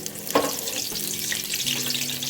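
Ice cream balls hit hot oil for deep frying, giving a steady bubbling sizzle with a brief sharp splash near the start, close and fairly loud with no voices.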